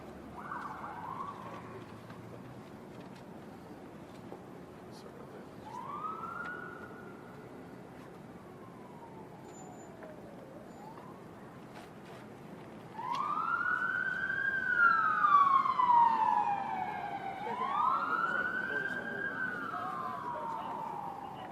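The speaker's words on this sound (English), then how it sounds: "I'm going to wait for the siren." A police siren wails in the distance, rising and falling, then grows louder and nearer with sweeping wails over a quiet background.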